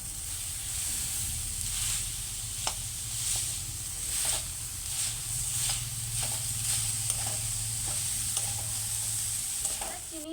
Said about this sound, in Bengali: এবার সব কিছু ভালো করে মিক্স করে নিচ্ছি